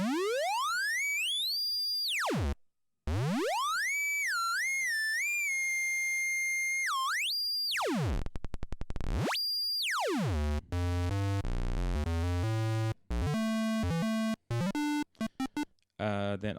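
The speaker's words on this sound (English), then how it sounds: "Sounds like a square wave." A Korg ARP2600m synthesizer oscillator plays bright square-wave tones that sweep, bend and jump in pitch, with bursts and brief gaps, loud and alone for the whole stretch.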